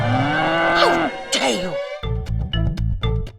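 A water buffalo lets out a long, low moo, followed by a rhythmic thumping beat, with a voice briefly in the background.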